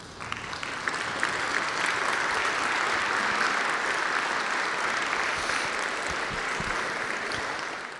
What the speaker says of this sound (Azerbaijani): ayağa qalxın şagirdlər, geriyə dönün və valideynlərinizi ürəkdən alqışlayın